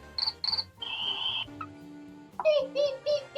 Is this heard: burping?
no